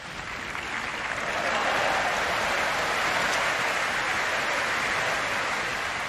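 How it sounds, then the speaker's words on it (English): Large crowd clapping outside Westminster Abbey, heard from inside as a soft, even, rain-like patter that swells slightly in the first second and then holds steady, distant and muffled. "it sounded almost like hailstones on the roof, but actually it was people clapping outside"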